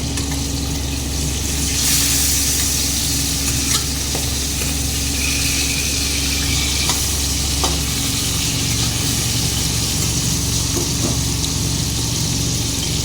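Boal fish fries in hot oil, a steady loud crackling sizzle running unbroken and close throughout, with faint utensil scrapes now and then.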